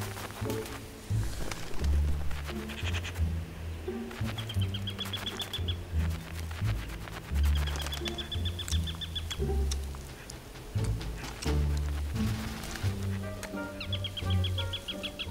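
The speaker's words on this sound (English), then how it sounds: "some magpies and crows have also spotted the dish and are not going to leave the kite" Wild magpies and crows calling near a kite feeding on meat, repeated harsh chattering and cawing calls in bursts over a busy outdoor background, fairly close and loud.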